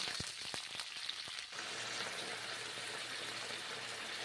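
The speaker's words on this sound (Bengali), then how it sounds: "গরম তেলে ভেজে নিচ্ছি ফুলকপি মটর কলাই ঘুগনি" Cauliflower florets and peas frying in hot oil for a vegetarian ghugni, a steady close sizzle with a few sharp crackles and pops early on, then an even hiss alone.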